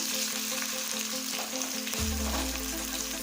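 Curry leaves and a green chili sizzle and crackle in hot oil, a dense, continuous frying hiss heard close up, joined by a low hum partway through.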